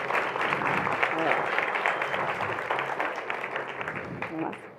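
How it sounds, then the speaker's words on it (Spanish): Conference audience applauding after a talk answer, a steady dense round of clapping holding for nearly five seconds with some voices underneath. "Espero que estén aplaudiendo solo el cierre de esa respuesta"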